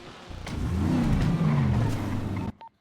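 A car engine runs and revs steadily up close, droning loudly for a couple of seconds before cutting out abruptly.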